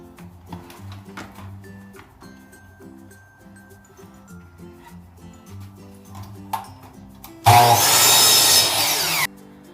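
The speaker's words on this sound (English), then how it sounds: "So we're going to adjust the saw to a 45." Power saw set to a 45-degree bevel cutting angled wooden pieces for a giant snowflake project, one loud burst of blade noise lasting about two seconds near the end after quieter background sounds.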